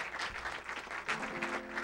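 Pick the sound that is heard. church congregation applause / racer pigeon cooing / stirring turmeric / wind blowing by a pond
church congregation applause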